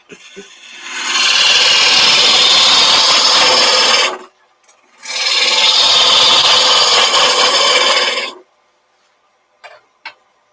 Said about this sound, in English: I'm just going back to the rough and gouge just to get rid of a fair bit of this wood here